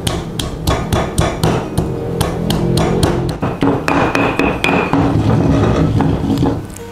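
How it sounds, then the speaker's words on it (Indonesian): Garlic pounded with a pestle in a stone mortar, a steady series of loud, sharp knocks repeating about twice per second throughout, with no talking. "Kita akan tumbuk sampai benar-benar halus."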